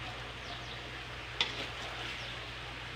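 Chicken for biryani cooking in a pan gives a steady, even sizzle and fry close by, with one sharp utensil tap near the middle and no talking.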